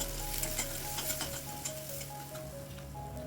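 Quiet, continuous sizzling of chopped onion sautéing in a pan, with faint crackles and light pops throughout and no talking.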